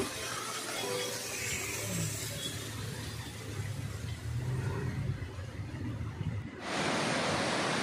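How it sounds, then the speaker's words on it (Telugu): A small waterfall flows in summer near Valparai, a steady broad rushing wash of water close to the microphone, loud and unbroken, with no voices. "సమ్మర్ మే మంత్లో ఇంత వాటర్ ఫ్లో అవుతుందంటే"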